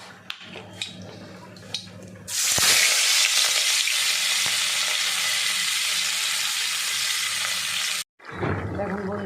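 Fish dropped into hot oil burst into a loud, steady sizzle that fills several seconds, following faint kitchen clatter and ending abruptly.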